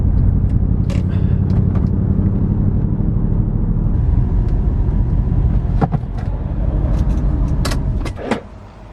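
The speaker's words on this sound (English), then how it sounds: "It's now misfiring, I can feel it." Salvage Mercedes C63 engine misfiring while driving, heard from inside the car as a loud continuous rumble with uneven low roughness and scattered clicks and rattles, easing off near the end.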